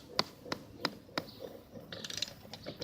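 A ratchet with a 9/16 socket loosens a lawnmower blade bolt, giving four sharp, evenly spaced clicks followed by a quicker run of ratcheting clicks, close and clear with no talk.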